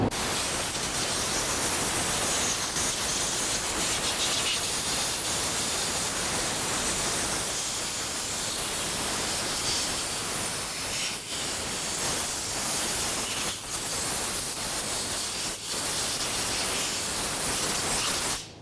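Compressed air blasting dirt off a Jeep Liberty fuel tank, a loud continuous hiss of blowing air with brief dips where the nozzle pauses.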